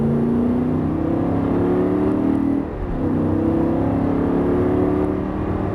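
A Lamborghini Gallardo LP560 accelerating on a track, a steady loud engine drone that rises in pitch, dips briefly midway after a gear change, then climbs again, heard close from inside the car.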